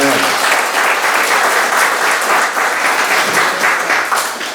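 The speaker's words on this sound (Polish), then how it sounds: "Et je crois qu'on peut déjà l'applaudir." Church audience applauding during a testimony service, a dense, loud burst of many hands clapping that holds steady for several seconds before tapering slightly at the end.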